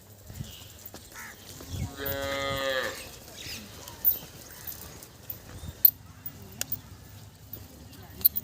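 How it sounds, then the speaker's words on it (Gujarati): Cows on a farm field, one giving a single drawn-out moo of about a second, followed by scattered knocks and rustles as a person talks in the background. "ગાય જોઈ લો આપણે ગાય"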